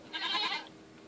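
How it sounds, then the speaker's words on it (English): A goat from the Mo Creatures mod for Minecraft gives a single short, nasal bleat lasting about half a second, clear and close, then quiet follows. "Goat."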